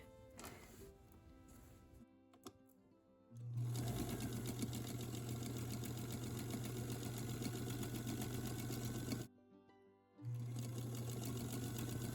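A sewing machine runs a quarter-inch seam through quilted fabric pieces, with a quiet start, then a loud steady mechanical whir, a brief pause, and a second run of stitching.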